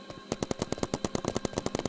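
Paintball guns fire in the video game Big Paintball as a rapid string of about fifteen sharp, evenly spaced shots, loud and close, with no talking.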